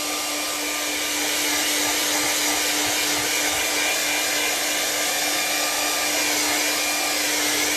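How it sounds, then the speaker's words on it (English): A hair dryer blows steadily and loudly, drying freshly blended paint colours, with a continuous whirring hum that holds for several seconds without any talk. "I'm up blow drying right now, and it doesn't take very much."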